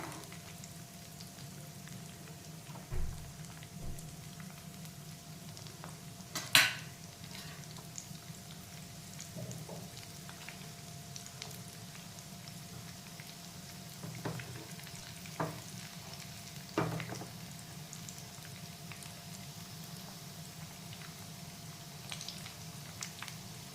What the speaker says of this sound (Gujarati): ફ્રેન્ડ્સ જો આવી રીતે આપણે તરી લેવાના બધા, ઉલટતા પુલટતા